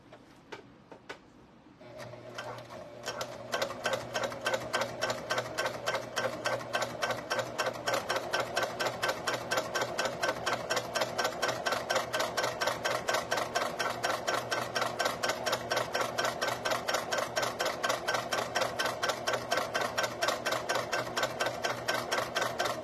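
A sewing machine stitches a strip of webbing for keychains, starting after a brief pause and then running in a long, fast, even rhythmic chatter, close and steady.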